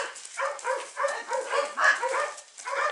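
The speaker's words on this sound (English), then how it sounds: "This is my prize dog." A female dog gives a quick series of short, close yips and barks at an uneven rhythm across a few seconds, with no talking.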